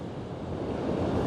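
Ocean surf breaking at St Mike's Beach on a falling tide, a continuous roaring wash of waves that swells slightly louder toward the end, with wind buffeting the microphone.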